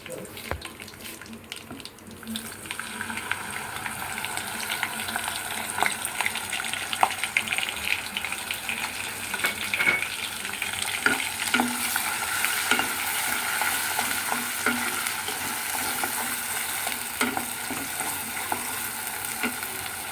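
Onion paste hits a hot pan while cooking rajma, starting quietly and then building into a dense, continuous sizzle with scraping stirs and occasional sharp clicks for the rest of the stretch.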